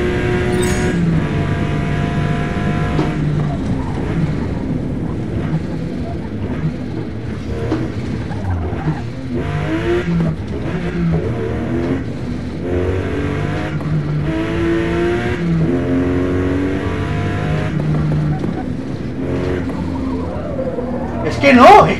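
A race car engine in Forza Motosport at Virginia circuit, revving and shifting through gears in loud rising sweeps that repeat for the whole stretch, with someone talking over it.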